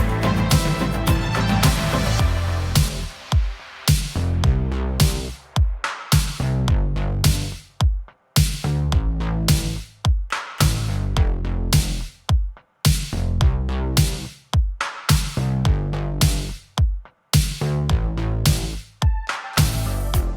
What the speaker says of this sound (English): So I stripped it back to just pretty much the bass and the drums